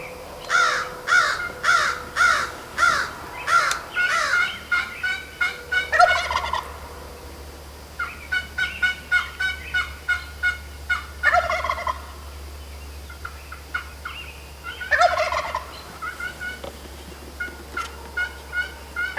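A Merriam's wild turkey tom gobbles during a Wyoming hunt, roused by a mouth call and a box call. Loud, rattling gobbles repeat in quick rhythmic runs, close and clear over a low background hum, with short gaps between bouts.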